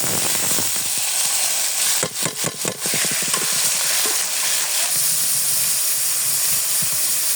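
Lentils hit hot oil with onions for an okra dal, setting off a steady, loud sizzling hiss. A burst of quick utensil clatter breaks through partway, then the frying carries on alone.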